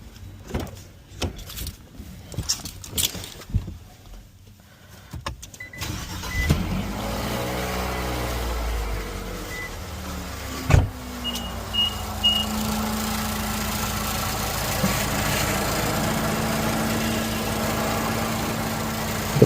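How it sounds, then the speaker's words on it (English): An already-warm Infiniti QX50 fitted with a K&N drop-in air filter cranks and catches, then settles into a steady, close idle hum after a few seconds of handling noise, with a brief click partway through. "let's go ahead and turn on the car"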